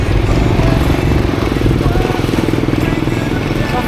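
Motorcycle engine running steadily and loudly up close for the whole stretch, a continuous low throbbing rumble with some background noise.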